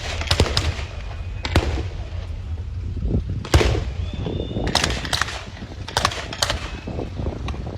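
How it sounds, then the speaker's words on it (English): Browning automatic rifle fire in a World War-style tank video game, heard as several sharp, loud gunfire bursts spread across the clip against a steady low battle rumble, with no talking. "There's a BAR, Browning automatic rifle,"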